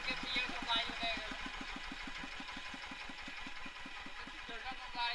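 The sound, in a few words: diesel car engine idling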